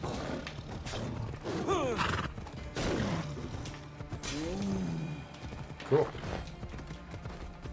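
Horse in Assassin's Creed Odyssey, neighing and whinnying repeatedly while its hooves clop along steadily, with someone speaking briefly over the sounds.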